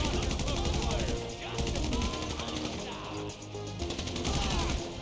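Rapid gunfire from a GTA 5 gunfight, sustained bursts and overlapping shots running through the whole stretch, loud and dense, with voices talking faintly underneath.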